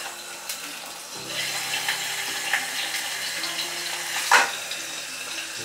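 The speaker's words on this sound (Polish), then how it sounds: "pod przykrywką smażę" Steady muffled sizzling of food frying under a lid, a low hum beneath and an occasional sharp pop.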